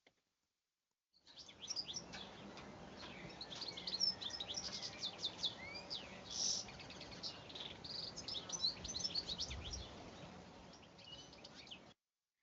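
Recorded bird call played back during a lecture: rapid high chirps and tweets trill over a faint buzzing, insect-like background, fairly quiet and continuous for about ten seconds.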